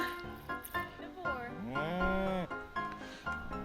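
A cow lows during milking on a farm in The Sims 4 Cottage Living, a long, drawn-out moo with harmonic tone in the middle, framed by game music and ambience.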